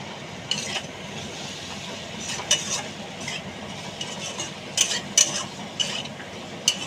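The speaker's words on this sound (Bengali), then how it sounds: "ভালো করে এটাকে আমি কষে নেব।" Potato, capsicum, tomato and chopped chilli stir-fry in a pan, giving a steady soft sizzle under repeated scraping stirs and occasional light metal clinks, close and even, with no talking.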